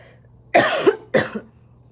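Two sharp coughs in quick succession, close and fairly loud, with a brief pause between them and quiet before and after.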